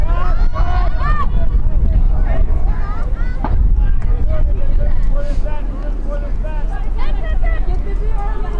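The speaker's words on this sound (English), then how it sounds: "Lots of wind here affecting everyone's throws and catches." Strong wind buffets the microphone at an outdoor youth girls' ultimate frisbee championship final, a steady low roar under crowd chatter and a commentator's voice running throughout.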